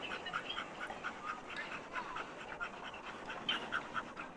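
Dog panting in quick, steady breaths close by, on an outdoor walk in a real-world setting, with faint background noise and no talk.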